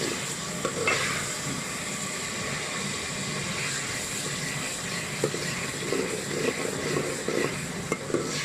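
Onions and green chilies sizzle and fry in a pan for chicken keema, a steady hiss with occasional scraping stirs of a spoon and no talking.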